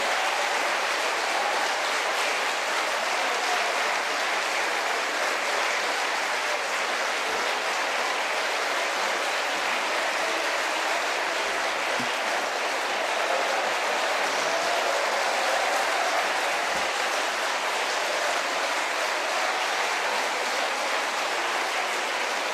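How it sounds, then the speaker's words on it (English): Sustained audience applause at a military literature festival in Chandigarh, a dense, even wash of many hands clapping that continues steadily and loudly without pause from start to finish. "Very good clapping. Keep it up."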